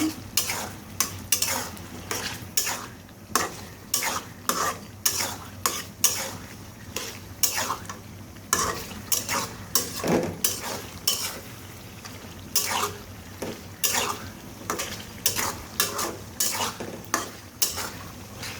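Haleem meat being stirred in a pan with turmeric and ginger-garlic paste: a steady sizzle of frying runs under repeated rhythmic scrapes of a spoon against the pot, close and fairly loud.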